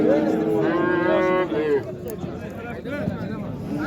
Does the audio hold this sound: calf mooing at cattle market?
yes